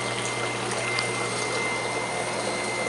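Steady pump hum of biodiesel being drawn through a filter, a continuous, even drone with a low tonal buzz and a faint liquid hiss running without break.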